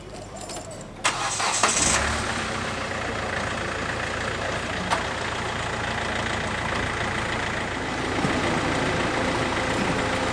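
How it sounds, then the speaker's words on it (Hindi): A car's starter cranks briefly before the engine catches, then settles into a steady, close idle that runs on with one sharp knock midway. "तो मेरा गाड़ी पहले स्टार्ट करके फिर मैं घर पे बैठूंगा"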